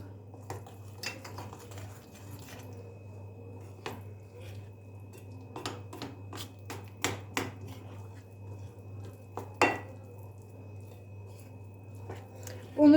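A flour and baking powder mix is stirred in a bowl for yogurt kömbe, giving soft scrapes and scattered light clinks over a steady low hum, with no talking.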